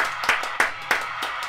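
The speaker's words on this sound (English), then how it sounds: "let's have a round of applause" A small studio audience of podcast hosts claps in a steady, evenly spaced rhythm, four or five crisp, close hand claps with no talking over them.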